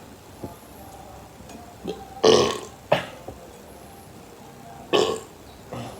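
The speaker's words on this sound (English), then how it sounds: "Oh my gosh, it's still burping." Several loud, close burps, two of them long and throaty, separated by quiet pauses with small mouth sounds.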